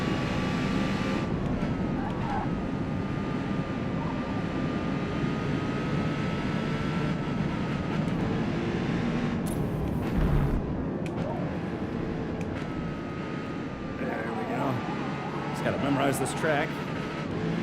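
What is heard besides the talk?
race car engine revving in the video game Forza Motorsport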